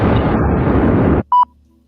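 A loud, dense rumbling explosion sound effect roars for just over a second, cuts off abruptly, and is followed by a short electronic beep.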